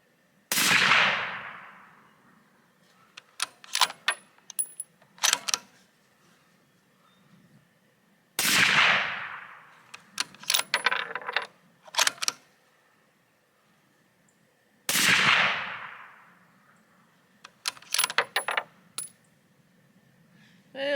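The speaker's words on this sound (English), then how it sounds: "Next up, we'll go ahead and shoot these 100 grain ELD VTs." Three loud, sharp reports from a Tikka T3 CTR bolt-action rifle firing 100 grain ELD VT rounds, spaced about seven seconds apart, each followed by a quick burst of metallic clicks from the bolt being worked.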